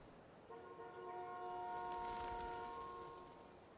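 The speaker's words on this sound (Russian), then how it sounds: "дали девочке подудеть в гудок" A train horn sounds in Life is Strange: Before the Storm, one long, steady multi-tone blast held for about three seconds over a faint ambient background, with no talking.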